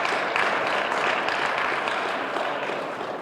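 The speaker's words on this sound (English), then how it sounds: "Round of applause for Attleboro" An audience at an outdoor-style award celebration breaks into dense, sustained applause, a full wash of many hands clapping together at steady volume, with no talking over it.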